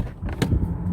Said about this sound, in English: Into the front seat, the driver's seat. Let's listen. Good close.